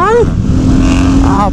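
A high-displacement motorcycle engine revs loudly and close by in a steady, rough drone. Excited voices talk over it.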